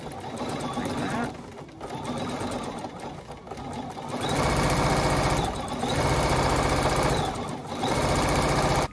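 A quilting machine stitches along a quilt seam with a fast mechanical chatter that speeds up and slows in waves, loud and close, while a voice talks over it.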